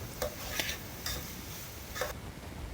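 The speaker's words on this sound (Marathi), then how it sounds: "भाज्या त्याच्यामध्ये फ्राय केल्या आणि मसाला पण टाकला पूर्ण मसाला त्याच्यामध्ये मिक्स झाला आणि हलवून घेतलं पूर्ण" Vegetables and masala being stirred in a pot for veg biryani or pulao, giving soft scraping clacks of a spoon against the pot at irregular intervals over a faint sizzle.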